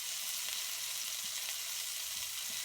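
Brussels sprouts frying in a pan while being turned over, with a dense, steady hissing sizzle throughout and faint scraping knocks as they are moved.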